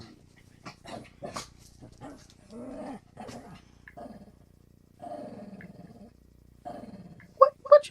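A puppy growls and scuffles in a house, with several short rough bursts and snarls spread through the stretch, then two sharp yips near the end, quiet between.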